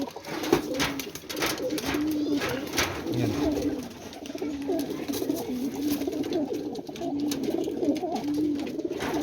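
A flock of pigeons in a loft coos in low, repeated, throaty calls that carry on without a break, with faint rustling and background murmur around them.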